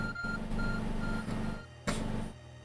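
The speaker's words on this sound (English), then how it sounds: "Your arc phone is beeping." Arc Phone beeping in Pokemon Legends Arceus, repeated short electronic tones over a steady game soundtrack, with a sharp burst near the end.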